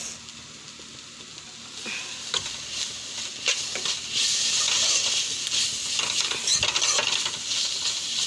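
Tomatoes sizzle and fry in a pan of noodles while a spoon stirs and scrapes, growing louder midway, with occasional clinks of utensil against the pan and no voices.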